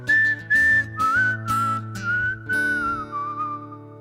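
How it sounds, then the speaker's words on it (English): A person whistles a melody during a live song, clear sustained notes in several phrases that glide between pitches over soft instrumental backing, close and prominent. "As soon as I got into that, I was like, oh, here's the whistle part."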